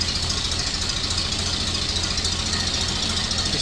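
A Ford Model A engine with a Burtz block idles fast, a steady rapid low chugging with an even mechanical clatter, close and continuous without talk.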